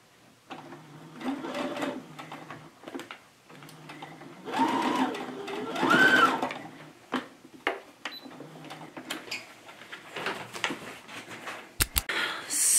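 A domestic sewing machine stitching cloth doll pieces, running in bursts of steady mechanical whirring and rapid needle clatter with short pauses between them, close by and moderately loud.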